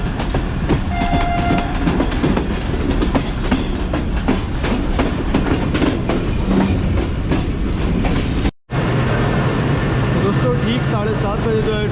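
Fareed Express running on the tracks between Lodhran and Rahim Yar Khan, a steady loud rumble of carriages with rhythmic wheel clatter and a brief horn, voices talking over it, cut by a short drop-out near the end.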